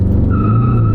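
A diesel car launches hard with traction control off, its tires spinning and squealing over a deep engine drone in a loud, brief burst.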